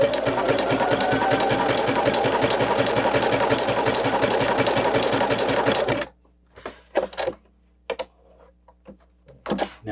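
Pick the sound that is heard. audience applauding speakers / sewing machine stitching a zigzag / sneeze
sewing machine stitching a zigzag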